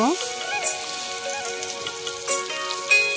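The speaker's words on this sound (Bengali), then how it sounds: "এখন কড়াইতে পেঁয়াজ কুচি, তেজপাতা, দারচিনি, এলাচ দিয়ে দিলাম।" Chopped onion, bay leaf, cinnamon and cardamom fry in oil in a wok, giving a steady bright sizzle throughout, with tonal musical notes sounding over it.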